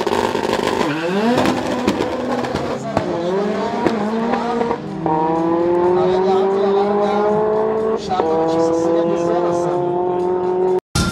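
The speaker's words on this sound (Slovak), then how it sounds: "Veľmi zaujímavé autičko, postavené MMZ Racing." A race car built by MMZ Racing drives at a Slovak motorsport event, its engine revving loudly and climbing through the gears in repeated rising sweeps, with a commentator talking over it.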